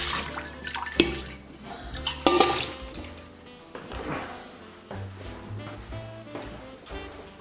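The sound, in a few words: rinsing the Instant Pot inner bowl with water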